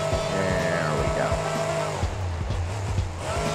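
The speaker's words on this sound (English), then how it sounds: "Let's try to get a donut in on this little dirt patch." Video game monster truck doing a donut on a dirt patch in a Mario Kart-style track, steady engine drone with revving pitch sweeps and tire scrubbing, loud and continuous.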